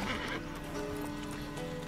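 A horse whinnies loudly over clopping hooves and background game sounds in The Witcher 3: Wild Hunt, brief and close, with a voice faintly underneath.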